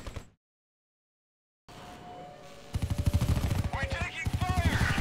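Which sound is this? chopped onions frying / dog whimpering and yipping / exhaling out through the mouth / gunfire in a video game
gunfire in a video game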